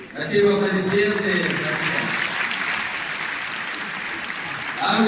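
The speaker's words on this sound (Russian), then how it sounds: "Спасибо, аплодисменты." Sustained applause from an audience at a regional hospital staff awards ceremony held in a circus arena, a steady broadband wash of hands for about five seconds with a brief spoken phrase at the start.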